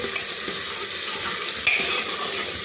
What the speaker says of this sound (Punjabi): ਪਹਿਲਾਂ ਥੋੜੀ ਜਿਹੀ ਹਰੀ ਮਿਰਚ ਭੁੰਨ ਲਈਏ